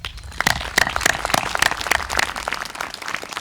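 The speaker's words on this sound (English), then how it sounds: "So I'd like to have some clap and appreciation for that." Scattered applause from a small outdoor crowd at a Memorial Day service on Vashon Island, uneven claps at a moderate distance, rising briefly and then thinning out, with no voices over it.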